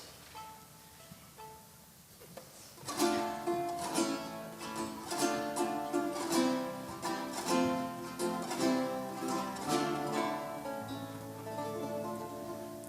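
Ensemble music in the folia dance style, built on a repeating chordal bass pattern, with a soft opening that swells into a full, rhythmic passage of sustained harmonies and accented chords, no voices.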